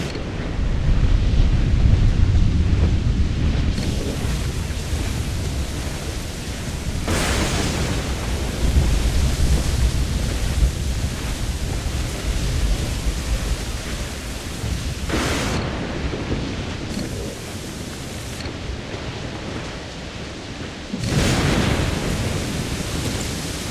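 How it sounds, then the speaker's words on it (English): A violent thunderstorm at sea in the pirate game Assassin's Creed IV Black Flag, with heavy rain and surf roaring continuously and loud thunder cracks and rumbles bursting in several times, no voices. "Storm, Captain! Looks bad!"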